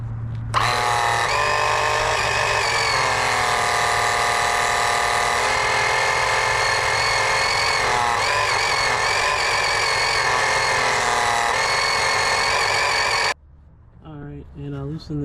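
Steady, loud mechanical whine of a fluid pump drawing transmission fluid from an Infiniti QX80, running continuously at close range with slight pitch wavering before cutting off abruptly, followed by a brief voice.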